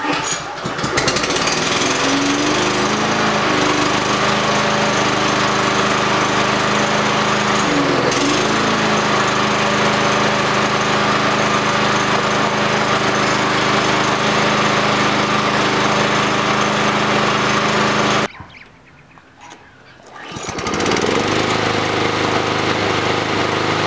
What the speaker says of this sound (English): hold the mower steady, and see how many starts it takes to get the motor going